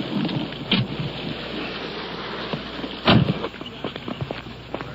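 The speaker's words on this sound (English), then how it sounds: "Rain is coming down now." Heavy rain pours down steadily as a broad hiss with a few louder gusts and rumbles, loud and close.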